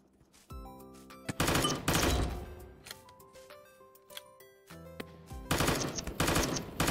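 Rapid automatic gunfire in the blocky shooter voxiom.io, bursts of sharp cracking shots in quick succession separated by short lulls, fairly close and alone without speech.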